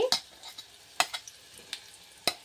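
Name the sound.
date paste frying in ghee with milk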